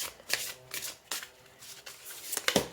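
Tarot cards are shuffled by hand in several quick riffling bursts spread through the stretch, close and crisp, with no talking over them.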